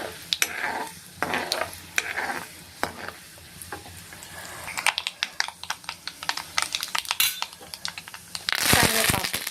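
Chana dal, urad dal, mustard seeds and cumin seeds fry in hot oil in a pan, with scattered scraping stir strokes and soft sizzling that swells into a louder burst of hissing near the end.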